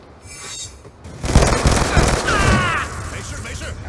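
A charged weapon shot fires in a drone combat video game, a building whine followed by a loud burst and a sweeping electronic zap, with game noise around it.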